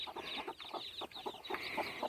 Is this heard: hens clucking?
yes